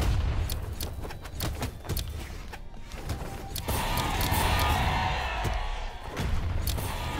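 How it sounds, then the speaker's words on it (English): Bombs exploding in Brawlhalla during a bomb-heavy match, with a dense barrage of sharp blasts and impacts firing in rapid succession throughout, loud and continuous game noise. "Bro, stop throwing bombs!"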